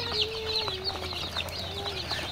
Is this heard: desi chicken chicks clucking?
yes